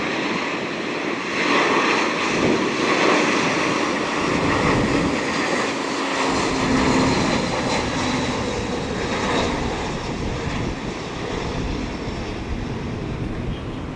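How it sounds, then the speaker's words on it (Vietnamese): Vietnam Airlines Airbus A321 landing on runway 25R at Tan Son Nhat, a loud sustained jet engine roar that rises and holds steady throughout. "Bây giờ thì chiếc máy bay Airbus A321 của Vietnam Airlines cũng đang bước vào hạ cánh ở đường băng 25 phải."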